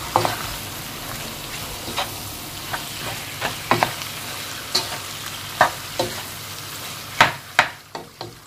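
A spoon stirring chicken filling with herbs and spices in a frying pan, a soft sizzle underneath regular scraping knocks that grow louder toward the end.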